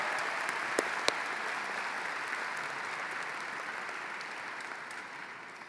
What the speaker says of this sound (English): Let's have another round of applause for the class of 2023